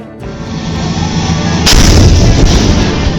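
Field artillery guns of Bravo Battery, 1st 178th Field Artillery, fire in Baghdad, a heavy booming blast landing midway through an ongoing deep rumble, loud and close with no voices.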